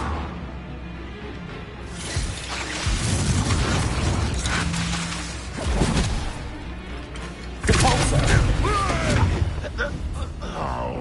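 Depulso force spell firing in the Hogwarts Legacy video game on PS5, a loud booming magical burst amid continuous battle effects and game music, with further impacts and blasts following over several seconds.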